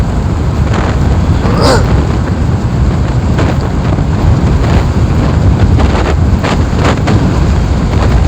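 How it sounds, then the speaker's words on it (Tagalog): Strong wind buffets the microphone in a rural barangay in Masbate, a constant loud roar with low rumble that never lets up, and a voice briefly comes through the gusts. "Lakas talaga ng hangin."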